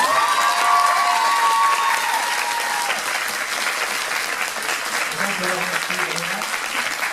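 An audience at a cosplay parade on stage at the Dijon Saiten convention applauds a performer, sustained clapping and some cheering from a crowd, with voices and a brief tonal sound mixed in near the start and end.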